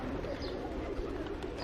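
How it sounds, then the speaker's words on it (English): Pigeons cooing around a temple in Kathmandu, Nepal, soft low murmuring coos under a steady wash of outdoor crowd and street ambience, fairly faint. "there's always loads of pigeons around the temples"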